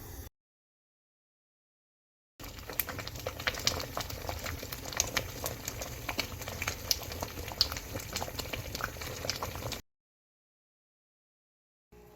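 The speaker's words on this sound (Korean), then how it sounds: "끓기 시작합니다 가에서부터 끓기 시작합니다" Homemade tangerine jam begins to boil in a pot, with steady soft bubbling and popping for about seven seconds between silent gaps, close and fairly quiet.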